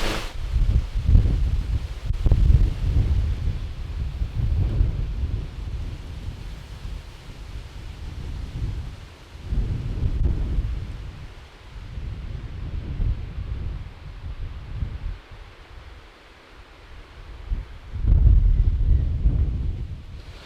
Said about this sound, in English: It is quite windy out here today.